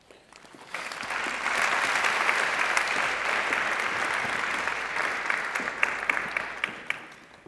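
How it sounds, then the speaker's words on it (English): An audience at the UNCTAD Women in Business Awards 2018 ceremony applauds an award winner, with sustained, dense clapping that swells after a quiet start and keeps a steady level for several seconds, a few sharper claps standing out near the end. "Another round of applause for her."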